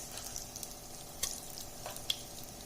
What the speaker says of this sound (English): Now for tempering, I am going to add hing and mustard seeds, curry leaves.